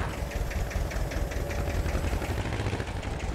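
A tractor engine idles steadily in Farming Simulator 22, a low, even rumble with a faint knocking pulse, moderately loud and heard alone without speech.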